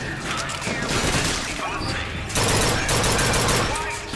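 Gunfire from a Motorized Patriot in BioShock Infinite, dense rapid bursts of automatic shots with mechanical clatter filling the clip, loud and close, mixed with other combat noise.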